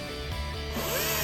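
A DeWalt 16-inch Flexvolt cordless chainsaw cuts through a tree branch with a loud, continuous motorized whine and grinding, its pitch shifting as the chain bites into the wood.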